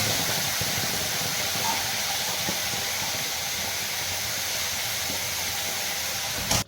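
Masala spices tipped into a pan over roasted cumin while cooking a vegetable dish, a loud continuous steamy hiss filling the clip without a break, close, ending abruptly, no talk.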